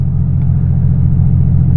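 An Aston Martin V12 Vanquish engine pulls hard in a loud, dense low rumble that holds steady and close throughout, with no voices over it.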